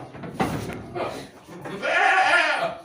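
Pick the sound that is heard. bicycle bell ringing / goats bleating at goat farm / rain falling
goats bleating at goat farm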